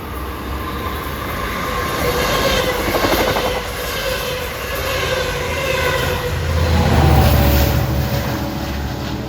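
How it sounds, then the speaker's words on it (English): LIRR commuter train 611, running Port Jefferson to Long Island City, passes close through Forest Hills station, a steady loud rumble of rail cars with rhythmic wheel clatter and a rising low roar near the end, no voices. "Here he comes, 611, Port Jeff to Long Island City."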